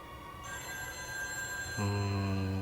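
A telephone rings with a steady bell-like electronic tone. Partway through, a louder, lower, layered ring joins it, continuous and close over a constant background hum.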